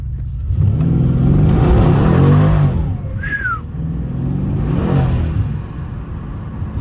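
A Stage 2 Mercedes C63 AMG with about 650 horsepower revs hard on a wet road, traction off, its engine climbing in two loud surges with a brief squeal between them.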